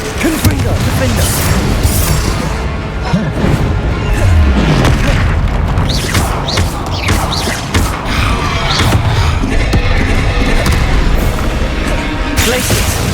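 Confringo fire-blast spells explode again and again in Hogwarts Legacy, loud booming blasts in quick succession amid ongoing combat noise, while a voice keeps calling out spell names over the action.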